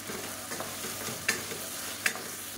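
Tomatoes and spices sauté in a pan for a kohlrabi kurma, a soft, low sizzle running steadily with a couple of sharper spoon-against-pan clinks from stirring.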